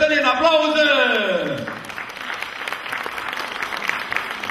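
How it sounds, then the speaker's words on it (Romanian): A sung vocal line with a falling melody fades out after a singer's performance, then an audience breaks into scattered, moderately loud applause that carries on steadily to the end. "Cătălina, aplauze!"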